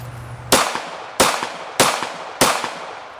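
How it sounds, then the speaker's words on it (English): A Kel-Tec PF-9 9mm pistol, fitted with an extended magazine and a Crimson Trace laser, fires four sharp, loud shots outdoors. The reports come at uneven intervals, each followed by a short decaying echo. "just go ahead and shoot these rounds and see what we get"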